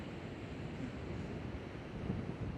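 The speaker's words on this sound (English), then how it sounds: "Not sure if you can hear me through the wind" Wind buffeting the microphone on a beach in fall, a constant loud rumbling roar with faint surf beneath, steady for the whole stretch and no talk.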